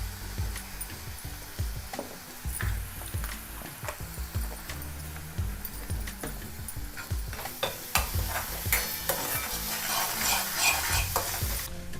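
Green chilies fry in a pan for black urad dal, sizzling steadily while a spoon stirs and scrapes them in frequent clinks and taps close up, with no talking.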